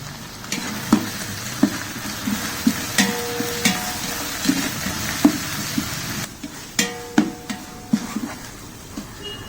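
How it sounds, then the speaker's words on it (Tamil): Ginger garlic paste sautéing in hot oil for a large mutton or beef dum biryani, a steady sizzle broken by repeated scraping strokes of a stirring spoon against the pot. "இஞ்சி பூண்டு நல்ல பச்சை வாசனை வந்து போகிற வரைக்கும் நல்லா வதக்குங்க"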